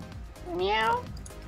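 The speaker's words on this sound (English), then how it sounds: "Why does that bookcase make a cat noise?" A single rising cat meow sounds from a bookcase in a video game, a clear drawn-out cry under light background chatter.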